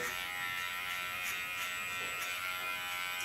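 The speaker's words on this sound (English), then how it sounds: "Do this with my clipper blade." Electric hair clippers buzz in a steady, fairly faint high-pitched hum while cutting a man's hair, with slight pulses in tone as the blade moves through the hair, and no talk.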